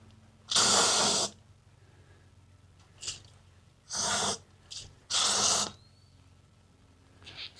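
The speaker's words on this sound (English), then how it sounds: "get your hot shot, go over there and hose it down" Hot Shot insecticide sprays into holes in short loud hissing bursts, three long and a couple of brief ones with pauses between, close by over a low background hum.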